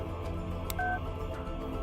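Two short phone keypad tones sound in quick succession as a number is dialed on a character's phone in the game The Mermaid Mask, clear over a steady low ambient hum.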